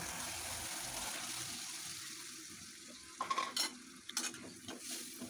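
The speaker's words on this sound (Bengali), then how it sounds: "এখন আমি এর মধ্যে আগে থেকে কেটে রাখা আলুগুলো দিয়ে দিব" Potatoes tumbled into a pan of spiced masala frying with a little water, a steady broad sizzle broken by a few clattering stirs and knocks toward the end.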